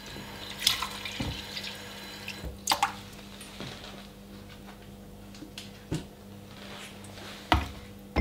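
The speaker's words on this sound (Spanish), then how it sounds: "lo que vamos a hacer es remojarla durante 5 o 10 minutos" Hungarian Haidu whetstones soak in water. The sound is quiet, with soft trickling, a few scattered drips and small splashes.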